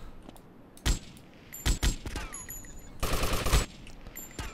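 Gunfire in a hard-mode mod of GTA Vice City: separate loud shots, then a rapid automatic burst, among quieter clicks and game effects.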